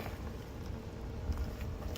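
Drizzle rainwater trickling into a rain barrel of a rainwater collection setup, a soft steady patter and low gurgle running continuously at close range.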